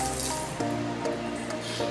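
Water runs and splashes from a newly installed shower heater with a steady wet rush, plus short gurgling drips and several tonal spurts recurring along with it.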